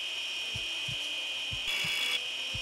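Rhythmic rasping strokes of a surgical saw cutting through a patient's ribs in Surgeon Simulator 2013, about six evenly spaced back-and-forth scrapes over a constant high electronic hum, close and fairly soft.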